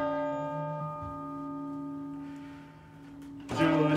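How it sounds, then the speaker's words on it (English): Chimes played at a spring concert ring with long, sustained tones that slowly fade, then a louder struck note near the end, clear and fairly close with no speech. "I'm gonna try a little bit of singing with the chimes as an accompaniment."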